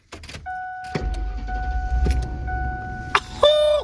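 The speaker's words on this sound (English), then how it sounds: "I'm going to turn on the car completely." Engine of a 1997 Ford F-150 pickup cranking and catching, with chimes and clicks at first, then a rough close idle, ending in a sudden burst of sound after the start.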